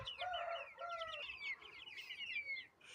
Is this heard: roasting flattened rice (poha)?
no